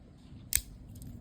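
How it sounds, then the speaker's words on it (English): A small pair of scissors from an ultralight first aid kit is handled, giving one sharp metallic snip or click midway, close and clear over a quiet background, followed by faint light clicks. "Small set of scissors she can use to cut any of this stuff inside this bag if she needs to"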